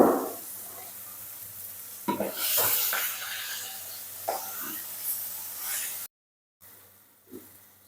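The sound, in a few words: river fish spattering and popping while frying in oil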